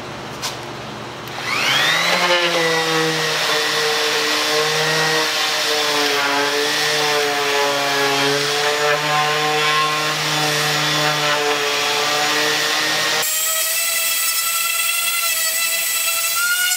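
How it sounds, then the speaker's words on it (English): A power sander starts up and whines steadily and loudly as it sands a pallet wood board, its tone wavering slightly under load, then shifts to a thinner, higher whir near the end. "all I need to do is hold that board while I sand it."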